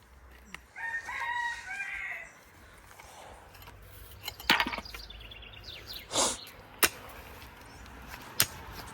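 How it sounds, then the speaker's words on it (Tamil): A rooster crows near a vegetable garden, a long strained call standing out over the outdoor background, followed by a few scattered sharp knocks and brief noises. "கோழி கத்துது."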